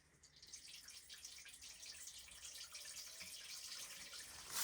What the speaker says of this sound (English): So in order to drain this, all we have to do is open this like this.